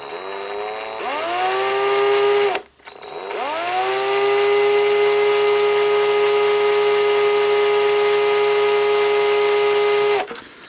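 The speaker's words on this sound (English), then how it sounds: "So the first thing I'm going to do is drill a hole where the original peg was" A power drill drilling a hole in plastic whines at high speed in two long bursts, spinning up, holding steady, and cutting off, loud and close.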